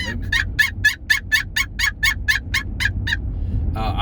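A person imitates a turkey gobble with a fast run of about a dozen sharp, evenly spaced yelping notes, loud and close, over low background rumble, ending in a short burst of breathy noise.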